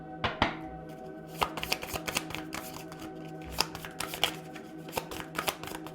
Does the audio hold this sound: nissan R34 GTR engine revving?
no